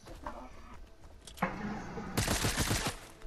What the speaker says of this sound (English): There's someone shooting at us.